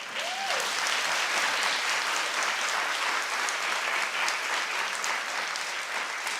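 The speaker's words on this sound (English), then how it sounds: "everyone's clapping" Audience clapping steadily and fairly loudly as a dense, continuous patter of many hands throughout, with no voices over it.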